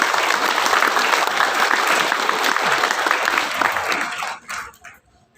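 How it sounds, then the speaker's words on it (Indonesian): Sustained applause from a ceremony audience for the faculty and academic staff at a university graduation, dense and steady clapping for about four seconds before thinning out and fading. "kita berikan aplaus untuk Pak Bambang"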